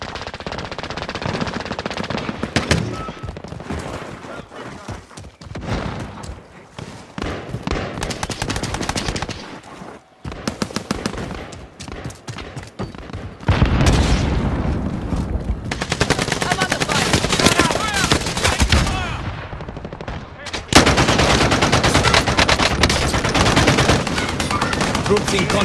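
Sustained automatic gunfire in Call of Duty Warzone payload mode, long loud bursts of rapid machine-gun shots with brief gaps, close and dominant, with occasional radio voices.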